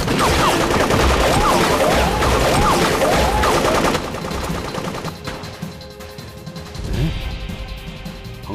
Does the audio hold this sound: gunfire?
yes